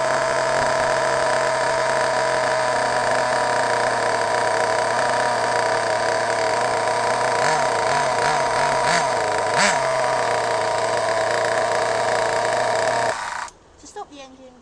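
A small nitro RC engine, igniter fitted and pull-started, runs steadily at a loud, constant buzzing idle with a few brief revs near the end, then cuts off abruptly.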